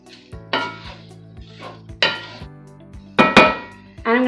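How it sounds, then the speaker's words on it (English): Onions tipped into a pan and stirred give a few sharp metallic clanks and scrapes of a utensil against the pan, spaced irregularly over a low steady hum, close and fairly loud, with no voices. "And I'm going to add my onions into the pan. Give them a good stir."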